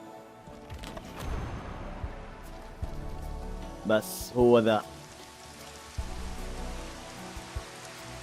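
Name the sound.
rain falling in video game Final Fantasy XV demo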